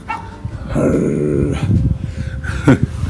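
A dog growls and snarls up close for a few seconds, a rough throaty rumble with a brief sharper yelp near the end.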